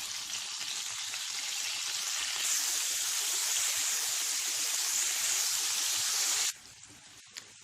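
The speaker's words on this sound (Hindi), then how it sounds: "धीरे से हम इसमें मैरिनेट किए हुए चिकन के पीसेस रख देते हैं।" Marinated chicken pieces for butter chicken, laid into about three tablespoons of hot oil in a pan over high flame, sizzle with a loud, steady hiss that swells and holds, then drops off abruptly near the end.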